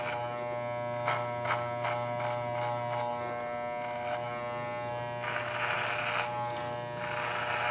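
Electric hair clipper buzzing steadily during a men's short haircut, a close continuous drone with louder rasping stretches as it cuts through hair.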